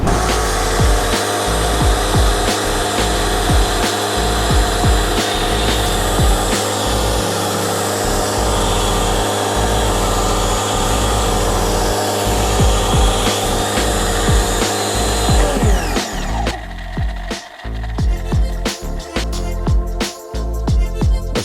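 A 2E HPW2015 mini pressure washer runs close by with a loud, steady motor drone and hiss, then the sound turns choppier and uneven in the last few seconds.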